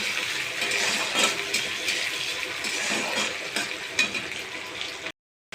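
Chopped onion, green chilli and coriander sizzling steadily in a pan for begun bharta, a continuous close hiss with soft crackles and no talk, cutting out briefly near the end.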